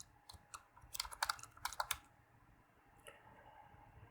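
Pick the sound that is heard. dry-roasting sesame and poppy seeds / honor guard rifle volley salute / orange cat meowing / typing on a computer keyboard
typing on a computer keyboard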